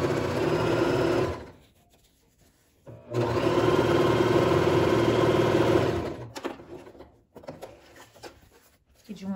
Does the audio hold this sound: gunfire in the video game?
no